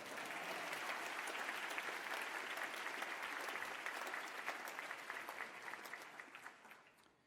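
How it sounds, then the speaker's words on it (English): A crowd at a university commencement ceremony applauds steadily, a dense wash of clapping heard from across the hall that slowly thins and fades toward the end. "We'll still give her a round of applause."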